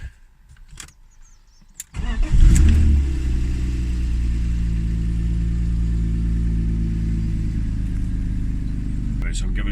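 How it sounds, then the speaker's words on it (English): A BMW E36 fitted with an M50B30 stroker engine starts after a couple of seconds and settles into a loud, steady idle under light throttle, with small clicks before the start. "So I'm giving it just a tiny bit of throttle."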